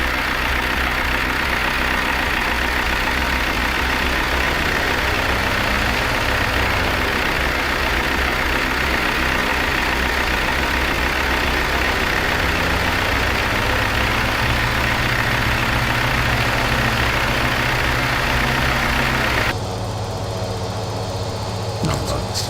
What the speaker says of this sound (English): Left engine start complete.